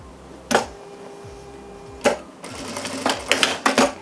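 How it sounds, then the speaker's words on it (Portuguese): A sewing machine stitches fabric flaps in place on a teacher's-day planner cover in short bursts, with sharp starts and brief runs of close mechanical whirring separated by quiet pauses. "Faço uma costurinha aqui para travar ela no lugar."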